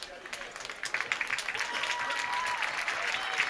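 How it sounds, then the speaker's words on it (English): Home crowd at a high school football game applauds from the stands as an injured player is carted off, a broad, steady wash of distant clapping and crowd noise with some voices mixed in. "You can hear the applause from the home crowd here"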